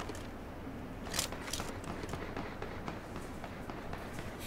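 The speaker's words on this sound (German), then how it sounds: "Da unten wird irgendwie hart geschossen" Distant gunfire in the battle royale game PUBG: faint, scattered sharp pops from far away over a steady background hiss, including a short cluster of shots partway through.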